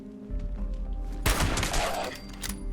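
A gunshot in the video game Fallout 76, landing as a headshot: a sudden loud burst of gunfire cuts in midway over quiet game ambience, then rings out and decays over the following second or two.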